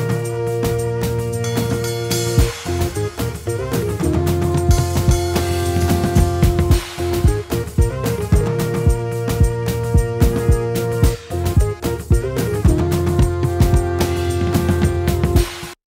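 An Afrobeat production beat with organ chords over a steady drum groove, with kick and percussion hits pulsing evenly throughout, loud and continuous, with no voices.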